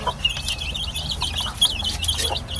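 Chicks peep in rapid, high, overlapping chirps with soft clucking from fowl nearby, steady and close throughout.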